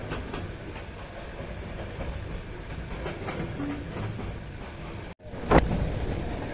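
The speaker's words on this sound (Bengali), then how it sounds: "ট্রেন তার নিজ গতিতে ছুটছে।" Passenger train running on rails from Chattogram toward Cox's Bazar in early morning, a steady rumbling roll with faint rhythmic clatter and wind, broken near the end by a brief dropout and a sharper louder burst.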